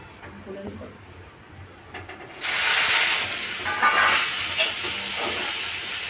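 Drumstick leaves drop into hot garlic oil and burst into a loud, steady hissing sizzle that keeps going after a quieter start with someone speaking.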